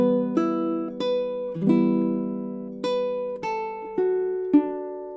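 Plucked baritone ukulele notes in a lively jig rhythm, bright ringing strikes with a few chords, played alone and close.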